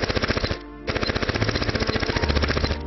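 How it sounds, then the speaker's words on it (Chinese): Rapid bursts of gunfire in a historical documentary, a dense, loud rattle of repeated shots with a brief pause near the start, sounding like automatic weapon fire over a low rumble. "那天，杀死他的枪声响了。"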